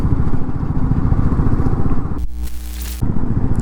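A motorcycle engine droning loud and close on a mountain road trip, with a brief tonal hum breaking in midway before the engine noise returns.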